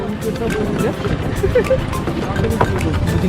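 A large passenger launch heading to Saint Martin island rumbles with a steady low engine drone and water noise. People talk over it throughout, loud and close.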